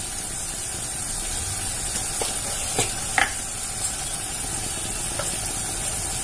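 Masala sizzling as it is sautéed in a pan for lady fish curry, a steady soft hiss and fry with a few brief louder spatters and stirring scrapes, close up with no talking.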